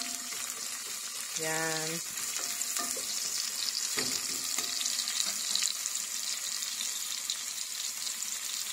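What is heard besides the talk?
onions frying for chicken curry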